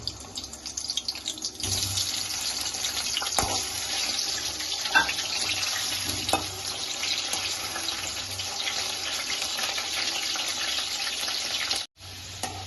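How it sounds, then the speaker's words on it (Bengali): Biryani potatoes fry in oil over a lowered flame, giving a steady, close, broadband hiss that runs unbroken for the whole stretch and drops out briefly near the end; no one talks. "বিরিয়ানি আলুটা আমরা একটু লাল লাল করে ভেজে নেব"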